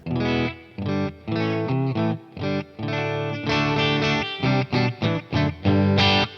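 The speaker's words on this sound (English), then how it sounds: "Pretty clean, but there is a little bit of reverb there from the Katana as well" Electric guitar played through a Boss Katana amp on a fairly clean tone with a touch of hall reverb, picking out a series of chords and notes in short, steady phrases, loud and alone.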